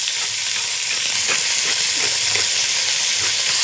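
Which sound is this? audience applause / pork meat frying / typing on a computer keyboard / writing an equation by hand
pork meat frying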